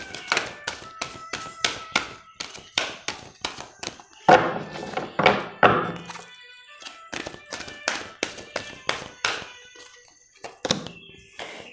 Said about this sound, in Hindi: मैं पहले कार्ड्स निकाल लूँ फिर धीरे धीरे आपको एक्सप्लेन करती हूँ।